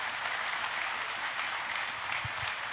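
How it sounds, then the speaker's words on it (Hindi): Audience clapping steadily at a lamp-lighting inauguration ceremony in Ratlam, a dense continuous wash of many hands held at even loudness, with a couple of low thumps near the end. "इसी बीच जोरदार तालियां बजाकर मां का स्वागत करें"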